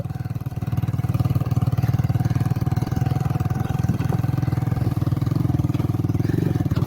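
A motorcycle engine running steadily up close on a village road trip, its rapid even thudding pulse continuous and loud throughout.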